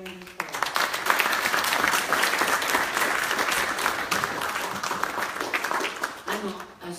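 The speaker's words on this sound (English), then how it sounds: "Can we give them a round of applause?" An audience at a parliamentary anniversary event breaks into a sustained round of applause, dense clapping that holds steady for several seconds before tapering off.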